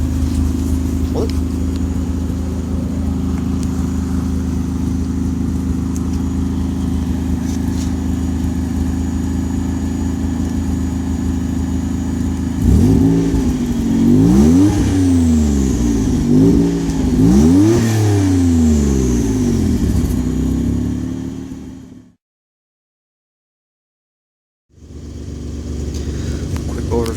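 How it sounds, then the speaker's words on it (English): A 1996 Dodge Stealth R/T twin-turbo engine with a small exhaust leak idles with a steady low rumble, then revs several times in quick rising-and-falling blips before cutting to silence and resuming idle. "Overview of the car as it is idling smoothly"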